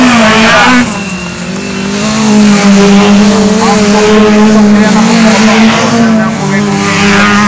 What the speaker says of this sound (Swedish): Robin Larsson, hittar en extra växel i sitt Volvo-skåp